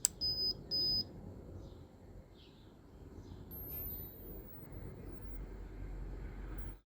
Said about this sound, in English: It should beep twice, and the LED light should flash 3 times.